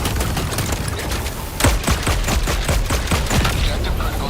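Rapid bursts of gunfire in Helldivers 2, a dense run of sharp shots growing louder and punchier partway through, close and loud for a few seconds.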